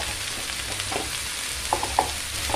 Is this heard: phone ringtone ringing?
no